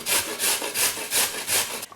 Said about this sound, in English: Just grate them.